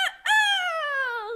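A rooster gives a single loud, close crow, rising sharply and then trailing off in a long, drawn-out tone, alone with no talking.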